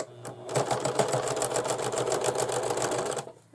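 A sewing machine stitching a pencil bag, its needle tapping out a fast, steady mechanical rattle close by, starting up, running continuously for about three seconds, then stopping.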